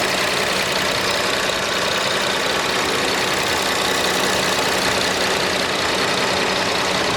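A 2016 Ford Explorer Police Interceptor engine idling steadily, a constant close, loud drone with no breaks or changes in pitch throughout.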